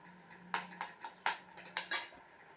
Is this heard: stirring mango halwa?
yes